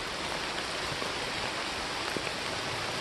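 Steady rain hisses evenly along a trail at Siouxon, a soft constant wash with occasional faint drips and no voices.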